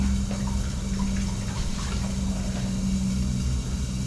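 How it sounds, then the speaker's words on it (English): Kitchen tap water runs steadily while a dish is washed, a continuous hiss with a low hum beneath and a few faint clinks, close and at an even level. "I'm going to wash this dish."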